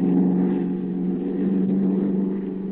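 An old airplane engine on an airfield at night drones steadily, a constant mid-pitched buzzing hum that holds a fairly even level throughout with a slight swell.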